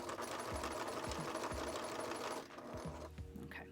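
A sewing machine stitches a quilt, running steadily and close with a busy mechanical whir and rhythmic thumps of the needle, easing off briefly near the end.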